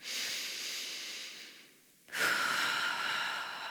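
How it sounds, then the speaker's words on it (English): Deep, slow breaths during a mobility warmup, close and audible: a long hissing exhale fades out, then after a short pause a strong new breath comes in, with no speech. "Again for 2 big breaths."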